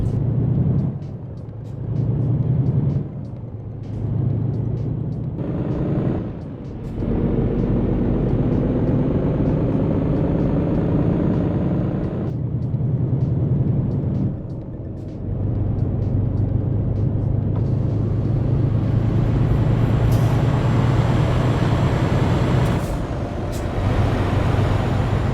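Truck engine with audible turbo in Euro Truck Simulator 2 after update 1.58, a loud steady drone that rises and falls through several gear changes, with short dips between pulls and a whistling top end.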